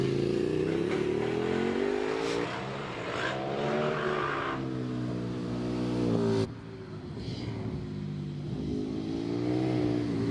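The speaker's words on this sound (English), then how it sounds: "Less sensible is Stu Mills on his KTM" A KTM motorcycle races up the Prescott championship hillclimb course, its engine screaming loud and close with rising and falling revs through gear changes, then dropping away abruptly as it passes.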